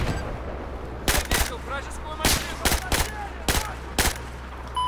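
Gunfire in the video game Battlefield 4, with sharp close shots fired in short bursts of one or two at irregular intervals over a low rumbling background, with speech mixed in.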